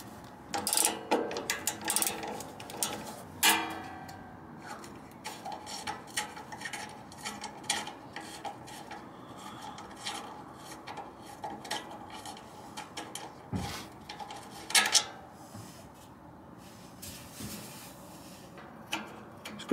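Exhaust actuator being unbolted under a BMW M140i, with close, faint metallic clinks and scraping tool clatter coming in irregular bursts, a few sharper knocks standing out.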